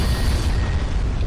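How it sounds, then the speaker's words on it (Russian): Deep, heavy explosion rumble in the sci-fi shooter Aliens vs Predator 2, a loud continuous low roar filling the whole moment with no voices. "От нихрена, конечно, бомбануло, там снесло все."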